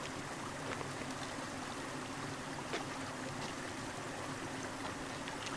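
Water steadily streams out of a stone serpent head in a jungle cenote in Shadow of the Tomb Raider, a continuous trickling flow with a soft broadband wash and no voices.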